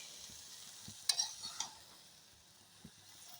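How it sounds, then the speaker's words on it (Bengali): Bottle gourd leaves being stirred slowly in a wok, giving a faint, soft scraping and rustle with a few brief clinks in the middle, over quiet kitchen background. "পাতা দিয়ে ভালো করে নেড়ে দিই আস্তে আস্তে করে নেড়ে দিচ্ছি যাতে পড়ে না যায়"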